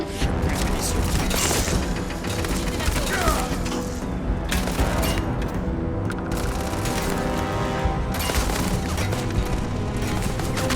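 Gunfire aimed at the player in the space RPG Starfield: dense, rapid volleys of shots and cracking impacts with booming hits, loud and continuous across the whole stretch, mixed with mechanical clatter.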